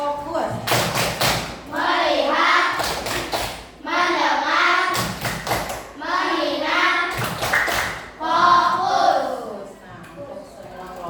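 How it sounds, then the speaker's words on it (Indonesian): A school class does a rhythmic focus clap in a classroom, bursts of sharp clapping in a set pattern alternating with children chanting together, loud and close, repeated several times. "tepuk fokus dulu supaya lebih semangat."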